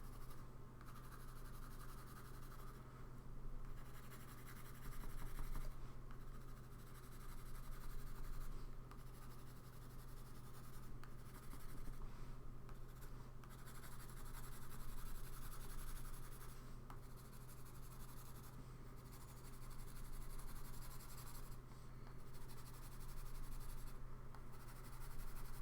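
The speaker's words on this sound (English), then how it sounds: "jump down to like a 2B pencil and then really lightly go over it" A 2B pencil lightly shades across paper in a drawing, soft continuous scratchy strokes in a slow repeated back-and-forth rhythm, faint and close over a low hum.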